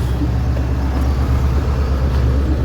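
A 1981 Cadillac Seville engine idles at a steady, fairly fast rate, a continuous low hum that stays loud and even throughout.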